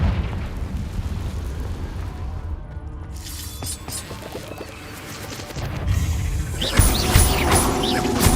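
A Confringo fire spell bursts in Hogwarts Legacy, with a heavy crashing boom and crackling debris, loud and rumbling, followed by a second fiery blast near the end.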